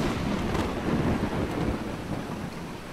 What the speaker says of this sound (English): Lightning about to strike me. Oh my gosh, it's actually striking me.